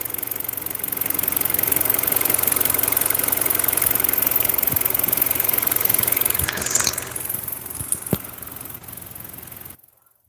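A car engine idles with a steady, slightly rough mid-range drone and faint knocking, close and continuous before winding down and cutting off at the end.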